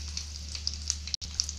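Fenugreek seeds and dried red chilies sizzling in hot coconut oil while tempering for a traditional fish curry, a close, steady frying hiss with small crackling pops.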